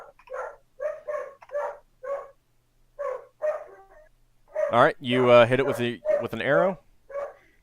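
A dog barks in repeated short bursts, with a few yips and a brief whine mixed in, fairly close, while people talk over and between the barks.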